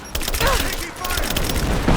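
Rise of the Tomb Raider combat with rapid gunfire crackling in quick bursts, loud and close, mixed with shouting voices in the game.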